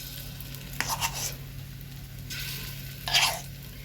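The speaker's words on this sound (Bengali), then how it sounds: "এবার আস্তে আস্তে আমি তেলের মধ্যে দিয়ে দিচ্ছি" Potato tikka coated in gram flour lowered into hot oil, giving a few short, soft sizzling bursts close by over a quiet steady hum, no one talking.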